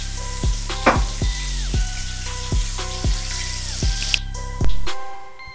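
Oil sizzles and crackles steadily as chicken strips fry in a pan, with repeated clunks of a utensil and a louder scrape near the end.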